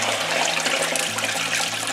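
Raspberry juice pours steadily through a muslin straining bag into a bucket during homemade raspberry wine making, a continuous close splashing and trickling of liquid that lasts throughout.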